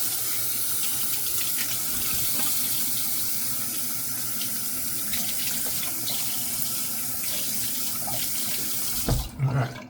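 Cold water runs steadily from a tap into a sink for rinsing, a constant close splashing flow that shifts briefly near the end.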